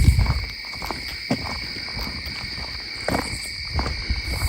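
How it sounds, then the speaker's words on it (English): Crickets and frogs chirp at night in the woods under a full moon, a steady high insect trill with scattered low croaks and rustles throughout. "what I'm hearing is crickets, and we have crickets and frogs mostly"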